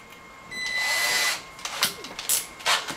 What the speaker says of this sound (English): We're gonna get our drill switched over to our Allen bit.